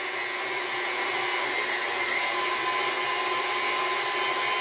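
An electric mixer runs at steady speed through coffee cake batter in a bowl, giving a constant loud whirring drone with no break and no voices.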